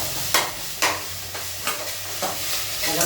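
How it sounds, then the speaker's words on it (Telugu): Ginger paste being stirred into a tomato curry in a pan, with four or five distinct scraping strokes at a steady rhythm over a soft, constant sizzle, close and clear with no voices. "అల్లం పేస్ట్ వేసి ఇట్లా మనం మంచిగా తీయాలి కాబట్టి మనం కలపాలి"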